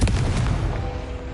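A Confringo spell detonates in the Hogwarts Legacy video game, a loud booming blast that hits at once and rumbles on through the short moment with no talk over it.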